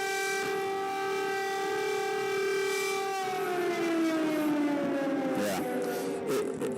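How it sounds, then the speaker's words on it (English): An air raid siren in Ukraine wails with a steady, harmonic-rich tone, then winds down in pitch as it fades off, heard from a distance with a brief spoken word. "You hear those sirens?"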